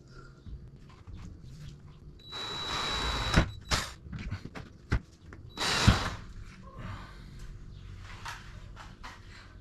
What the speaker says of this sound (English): now we're going to be drilling the pilot holes through the inside of the top